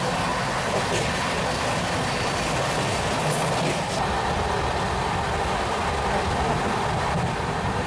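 Cocanada Express running at speed through Nekkonda station without stopping, a dense continuous roar of wheels and carriage rattle, loud and close throughout.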